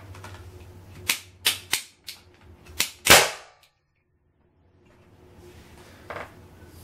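A combustion potato cannon fires with one loud, booming blast, preceded by several sharp clicks of the igniter, followed by a sudden silence and faint handling noise.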